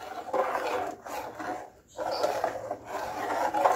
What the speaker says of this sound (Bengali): দিয়ে আবারও ভালো করে নাড়তে হবে।